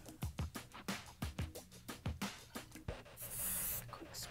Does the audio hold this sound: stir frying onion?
no